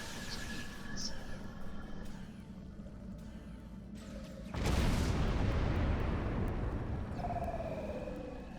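A propane explosion in the game Star Trek Online erupts as a sudden loud boom that swells into a roaring blast and slowly fades, following quieter game effects and a person talking.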